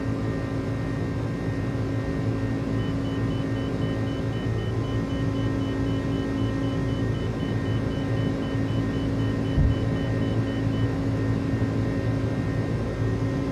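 An iniBuilds A300 airliner climbs after takeoff in MSFS2020, a steady, loud jet-engine roar with a low rumble and a sustained high whine that holds evenly throughout, with no voices.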